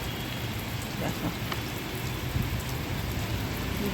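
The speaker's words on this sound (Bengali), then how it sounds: "ঝমঝম করে বৃষ্টি হচ্ছে।" Heavy monsoon rain pouring down at home, a dense, continuous roar of drops drumming on surfaces, steady and fairly close with no pauses.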